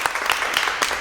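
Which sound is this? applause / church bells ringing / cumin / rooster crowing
applause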